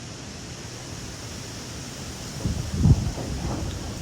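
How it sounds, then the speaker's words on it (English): Wind blows outdoors in a garden as a steady, soft rushing hiss, swelling into a stronger gust near the end before settling back. "Just got very windy."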